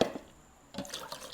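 Soft water sounds close by: a few drips and small pours as the water in an indoor plant vase is changed, quiet and intermittent.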